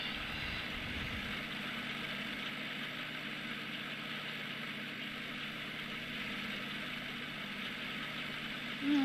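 A farm vehicle drives in Farming Simulator 19 with a steady, droning engine hum at constant pitch, unbroken and moderately loud throughout, with no voices.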